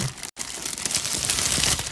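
A plastic shipping bag crinkles and rustles up close, with loud irregular crackles that break briefly and then continue steadily, with no talking.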